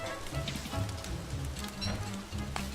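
A hard downpour in the game Don't Starve hisses in a constant wash of rain on surfaces, steady and fairly close, with faint low rumbles beneath and no voices.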